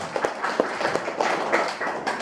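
Seminar audience at a business talk clapping, a light scattered round of applause with uneven individual claps and soft taps, moderately close.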